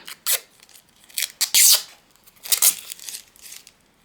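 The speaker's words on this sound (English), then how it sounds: "let's take off the plastic backing" Plastic backing peeled off a handmade rose heart faux stained glass panel, coming away in several short crinkly tearing bursts separated by brief pauses, close and fairly loud.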